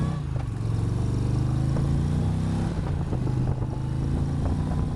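An Indian Challenger cruiser motorcycle's engine runs loud and close on a winding road, a deep continuous rumble with shifting revs and some mechanical clatter, no voices.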